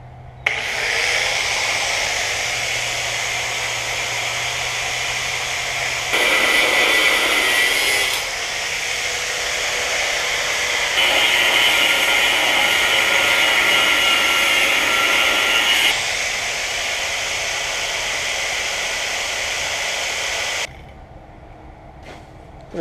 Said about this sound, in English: I'm just going to take a cut-off wheel and cut these things